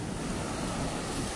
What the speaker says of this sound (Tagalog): Nagsasalpukan ba naman ang alon, oh?